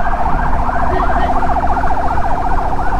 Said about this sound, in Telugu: ఇప్పుడు అంబులెన్స్ వస్తుంది చూడు,